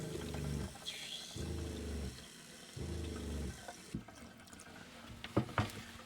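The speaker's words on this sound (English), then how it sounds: "So we ran the faucet until we saw the antifreeze come through." A kitchen faucet running during water line winterizing as antifreeze pushes through the plumbing, rushing in three bursts separated by pauses with gurgling, then sputtering and a few sharp knocks and clatters.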